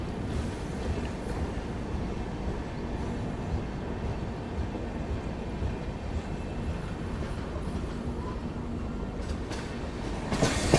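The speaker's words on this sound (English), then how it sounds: "we are entering at Padhari railway station" The Saurashtra Mail passenger train of Indian Railways rolls into Padhari railway station, a steady, loud rumble of wheels and carriages heard from on board, with faint clattering.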